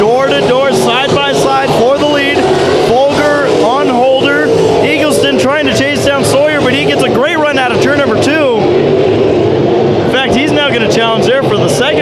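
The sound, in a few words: modified race cars racing at Bakersfield Speedway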